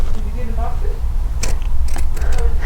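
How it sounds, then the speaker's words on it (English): Pinking shears chomp around the outside edge of fabric with a few crunchy snips, close and under a quiet voice. "I'm just going to take my pinking shears that I got for Christmas and go ahead and go around the outside edge"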